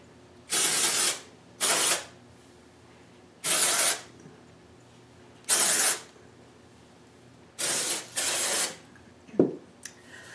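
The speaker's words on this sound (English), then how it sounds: "I'm going to go ahead and apply some more of this Amika Dry Shampoo" Amika dry shampoo is sprayed onto hair in six short hissing bursts, some single and some in quick pairs, close and crisp against quiet gaps, followed by a small rustle or bump at the end.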